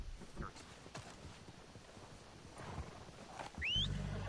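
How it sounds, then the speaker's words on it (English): Horses' hooves clip-clop through the Red Dead Redemption 2 game world, a steady stream of soft hoofbeats under ambient noise, with a louder low rumble and a brief whinny-like call near the end. "They're coming down with the horses."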